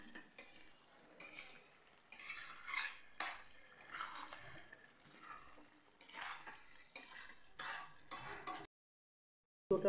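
A spoon stirring chicken curry meat as it is sautéed in a pot, with intermittent scraping and clinking strokes over a soft sizzle, close and moderately quiet, ending in a brief silence before one more scrape.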